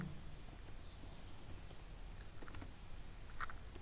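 Typing on a computer keyboard in Notepad, scattered soft key clicks close by over a low background hum, with a short burst of quicker presses near the end, no speech.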